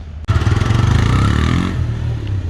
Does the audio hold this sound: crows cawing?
no